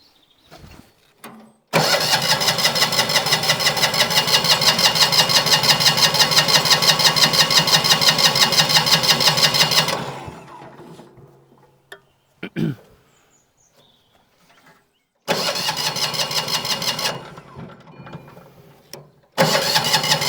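A Winget mixer diesel engine cranks and catches, then runs loudly and steadily for about eight seconds before dying away. After a short pause it bursts back into life briefly, then again at the very end.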